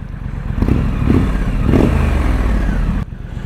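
A 2021 Triumph Street Scrambler 900 motorcycle engine idles loudly and steadily close by, with a couple of brief throttle blips and some clattering before it cuts off near the end.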